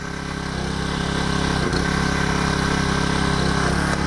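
A hydraulic rescue cutter opens fully under power while a steady, close mid-pitched engine drone runs without a break for a few seconds, with no voices.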